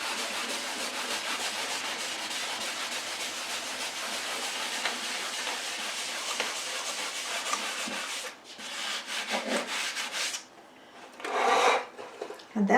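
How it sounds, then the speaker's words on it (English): Excess wax is buffed off a cradled wood panel with a cloth, giving a steady close rubbing hiss. It breaks into shorter, uneven strokes near the end, with no voices. "This just removes the excess wax that's on there and gives it just a soft sheen."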